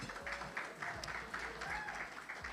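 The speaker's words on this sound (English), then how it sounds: "I wanna just give a clap of praise to Vice Mayor and Chair Mary Estime Irvin," Faint audience applause at a leadership summit conference, with soft, scattered clapping over a low murmur of voices.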